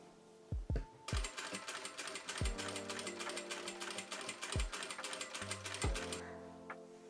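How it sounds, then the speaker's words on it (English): A domestic sewing machine top-stitches bias tape onto a cami top, running in a steady, rapid mechanical chatter for several seconds, with a few soft knocks and handling bumps before and during the run. "So I've basted the bias tape to the front and back, and now I'm gonna top stitch it."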